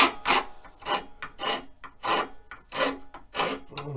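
A file rasps back and forth along a wooden drumstick to smooth it, about seven steady, evenly spaced strokes, close and clear, with no talking.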